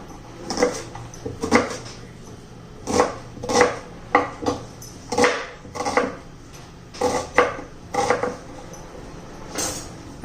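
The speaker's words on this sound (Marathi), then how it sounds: "आता कांदा पण चिरून घेऊया आपण." A knife chops onion on a cutting board in a home kitchen while a light poha breakfast is being made: a dozen or so sharp, close taps in uneven bursts, with no talking.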